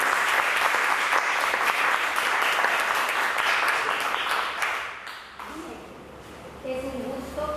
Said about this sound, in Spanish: pido entonces un aplauso a Laurita